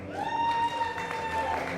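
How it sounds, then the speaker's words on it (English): An audience at a jail's IGNITE graduation ceremony cheers and claps in a mixed crowd roar, with voices and whoops rising over scattered applause and a tonal hum running underneath. "We got a cheer section."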